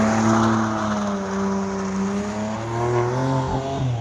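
A BMW M4 engine running close by, a strong, steady tone that rises and falls slightly as the revs shift over a few seconds, with no talking over it.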